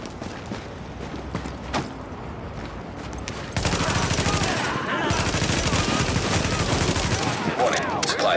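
Gunfire in the shooter game The Division, scattered shots at first that become dense, continuous rapid bursts halfway through, loud and close amid other battle noise.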